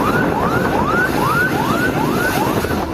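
Fire engine sirens wail in a steady rising-and-falling cycle, repeating about every half second, loud and close over dense traffic rumble, with no voices.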